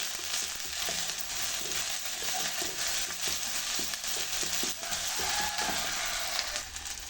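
Green chillies are stir-fried in a pan, with a continuous, close sizzle and a series of light, rhythmic scrapes and taps from the stirring.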